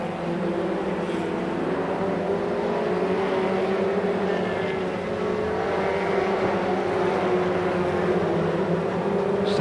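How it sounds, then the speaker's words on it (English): Race cars circle a track at a speedway meeting, a steady loud engine drone with pitch shifting as cars pass, continuous throughout without any talk. "And 612, Gary Sparks onto the leaderboard now in 6th place on lap number 11."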